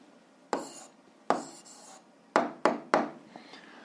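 A pen writes out an answer for a lever balance physics problem, a few short scratchy strokes and taps on paper spaced by brief pauses, close and quiet, with no voice.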